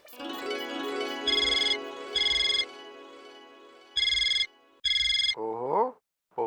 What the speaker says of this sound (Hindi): फोन लगा के सोडी को बोलता हूँ